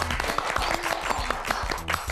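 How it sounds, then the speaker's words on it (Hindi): Applause from an audience at a televised dance competition, a dense burst of clapping that fills the whole short moment, loud and close, with no one speaking over it. "तालियां।"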